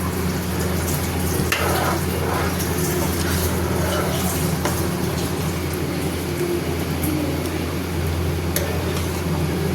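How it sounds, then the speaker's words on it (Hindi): Paneer curry bubbles in a pan on the stove, a loud, continuous close-up roar of boiling with scattered small pops throughout. "ये देखिए ये सब्जी हमारी खौल गई है।"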